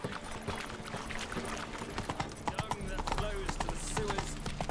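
In The Witcher 3, a horse gallops along, its hooves giving rapid rhythmic clip-clop thuds under game sounds and a voice speaking, moderately close and fairly quiet overall.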